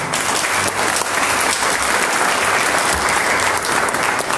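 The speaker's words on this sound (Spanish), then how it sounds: "Den un aplauso al Señor." A church congregation claps together in praise during a Spanish-language service, a dense, steady wash of applause from many hands filling the room without pause.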